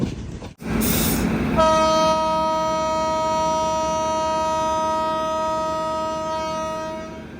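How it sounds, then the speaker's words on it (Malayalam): The Chennai Egmore Express arrives at Nileshwar railway station, giving a loud, sustained horn blast over the steady rumble of the rolling train close by. "ഇവിടെ ചെന്നൈ എഗ്മോർ എക്സ്പ്രസ് വരുന്നുണ്ട്."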